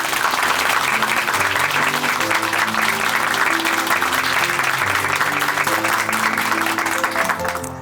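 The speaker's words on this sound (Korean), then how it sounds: "이하늘 자매님께 다시 한번 큰 박수 보내드릴게요." A church congregation applauds warmly after a testimony, steady dense clapping throughout with soft sustained music tones underneath, tapering off at the end.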